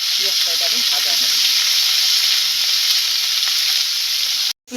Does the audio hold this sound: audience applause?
no